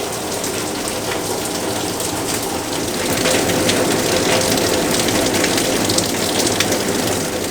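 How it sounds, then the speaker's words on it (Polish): Heavy tropical rain pours down steadily at Alona Beach on Panglao in the Philippines, a loud, unbroken hiss and patter that grows slightly stronger partway through. "Cały czas leje."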